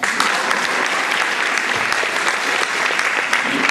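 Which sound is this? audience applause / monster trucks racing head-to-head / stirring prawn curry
audience applause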